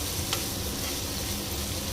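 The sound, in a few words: stirring chicken curry frying in oil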